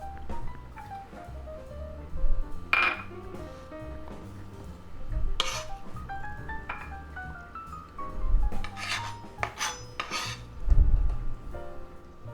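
Chopped yellow onion and spinach leaves drop into a bowl in several separate clattering bursts, spread out over a bed of soft background music.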